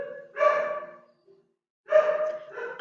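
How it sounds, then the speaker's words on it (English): One of three household dogs gives two drawn-out, tonal barking bursts separated by about a second of quiet, close to the microphone and fairly loud, with no talking. "I have three dogs, Noah, Nia, and Botas."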